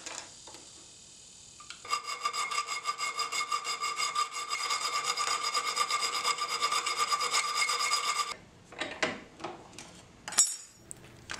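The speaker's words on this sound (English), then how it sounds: "now I'll bring it to its more exact shape using various kinds of files." Files rasp steadily across a steel knife blank being shaped by hand, a continuous rhythmic scraping for several seconds, then a few scattered knocks and scrapes, close up with no talking.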